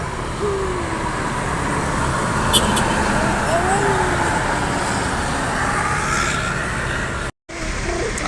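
A bus arriving from the Jakarta direction at a bus company's pool, with a steady roar of road traffic and engine rumble throughout, a few short horn-like tones, and a brief cut near the end.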